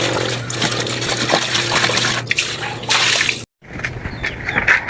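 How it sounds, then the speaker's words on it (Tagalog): Water gushing from a hand pump well with sand added to its filter, a loud, steady splashing rush that breaks off briefly near the end before resuming. "maganda yung daloy ng tubig"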